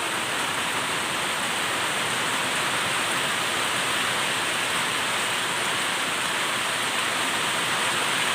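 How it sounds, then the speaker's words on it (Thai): Steady, heavy rain pouring continuously, a dense hiss with no pauses and no voices. "ฝนตกละฝนตกละ"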